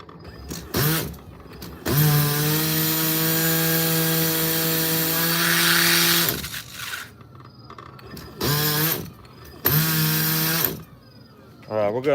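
A small nitro RC car engine buzzes in loud, high-pitched bursts, a long sustained run followed by several shorter revs separated by pauses, heard up close.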